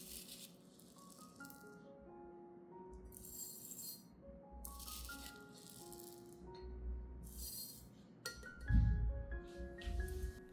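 Uncooked rice grains rattle and patter in bursts as three tablespoons are measured out for an orchid fertilizer soak, a dry granular clatter over soft background music, with a heavier thump near the end.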